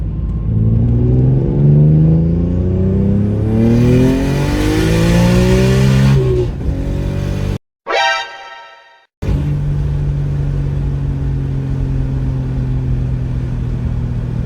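A turbocharged BMW E46 M3 S54 engine misfiring revs hard through rising gears, then cuts out abruptly with a stuttering drop before settling into a steady idle drone, close and loud.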